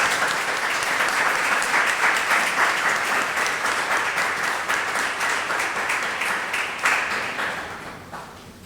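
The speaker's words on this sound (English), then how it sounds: "Give them a round of applause." A conference audience applauds its panelists in a loud, steady burst of clapping that fills the room and tapers off toward the end.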